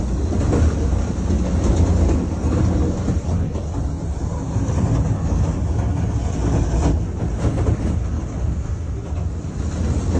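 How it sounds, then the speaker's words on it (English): A heavy rail car rolling off the tracks in Moore, Oklahoma, producing a loud, continuous deep rumble and grinding roar of heavy wheels and steel, sustained throughout without pause. "A parked rail car came off the tracks."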